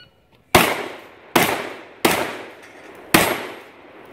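Four loud, sharp shotgun blasts ring out at an outdoor 3-gun shooting match, evenly spaced about three-quarters of a second apart, each with a decaying echo, no talking.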